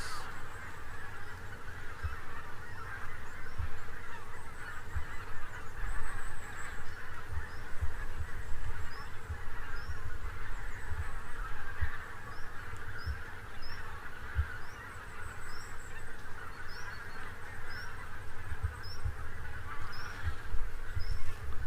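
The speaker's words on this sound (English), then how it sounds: "now I can hear the geese" Geese honk in scattered bursts, distant and faint, beside a flood-defence dyke along the River Elbe near Wartenberg, Germany. Buzzing insects hum close by throughout.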